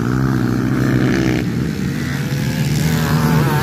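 Enduro motocross bikes race at a local fiesta competition in Kibuiao, Quezon, Bukidnon. A loud, close engine drone revs and shifts in pitch throughout, with no talk.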